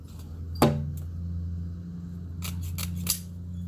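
Metal lath snipped with hand snips near a basement foundation window, one loud close crunching cut followed by a few lighter snips over a low steady background hum.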